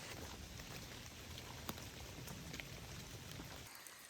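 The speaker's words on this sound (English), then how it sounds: "It's really raining." Steady rain pours down on a trail in Shenandoah National Park on a foggy day, a dense continuous hiss with scattered louder drops, close and unbroken, easing slightly at the end.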